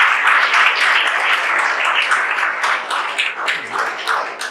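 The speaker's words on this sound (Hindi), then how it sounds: "एक बार तालियों के साथ स्वागत करेंगे देव का।" Audience applause welcoming a guest onstage at a toppers' talk event for civil engineering exam candidates, a dense continuous patter of many hands clapping, fairly loud and steady for several seconds with no talk over it.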